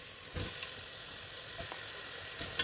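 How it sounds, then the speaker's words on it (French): Smoked meat sizzles in a cooking pot as a steady close hiss with a few soft knocks from the pot, brief and with no voices. "Je mets la viande fumée dans la marmite."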